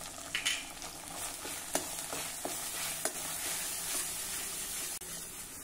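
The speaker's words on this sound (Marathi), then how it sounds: "मंद आचेवर आता हे मसाले देखील आपण परतून घेऊ।" Spices with red chilli powder, garam masala and turmeric sautéing in oil over a low flame for spicy bazaar dal, a steady soft sizzle with a few stirring clicks, close and alone.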